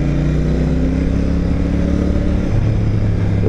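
Motorcycle weighing about 240 kg ridden on the road, its engine a steady loud drone with a slight shift in pitch partway through, continuous throughout with no voices.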